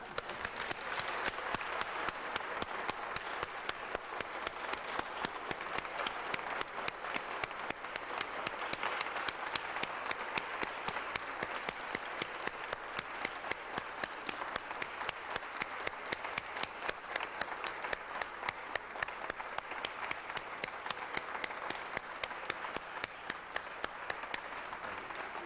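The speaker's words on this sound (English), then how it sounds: "we have to applaud your life" Sustained applause from a large crowd, a dense, even roar of clapping that continues at a steady level throughout.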